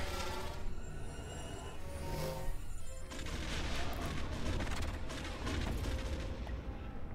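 Rapid bursts of electronic blaster fire and booms in the video game LEGO Star Wars, crackling shots coming thick and fast at moderate loudness, with no talk.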